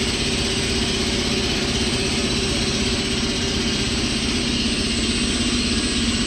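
Air compressor electric motor running on a Huanyang variable frequency drive, a steady loud hum with constant tonal whine, unchanging throughout with no talk.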